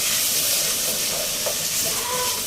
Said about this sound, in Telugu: అల్లం పచ్చివాసన పోయేదాకా వేయించుకోవాలి